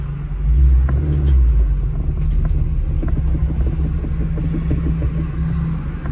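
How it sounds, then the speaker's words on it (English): Catless car with its stock OEM exhaust and resonator pulling onto a main road: a loud, steady low engine rumble that swells as it accelerates, heard up close with no talk. "She still has her resonator. She still has her normal OEM exhaust. So she does sound peppy"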